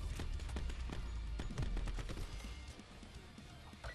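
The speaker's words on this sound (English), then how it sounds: "he just doesn't stop shooting" Continuous rapid gunfire in a Call of Duty World League match, sharp repeated shots cracking without pause over a low rumble, fairly quiet overall and fading slightly toward the end.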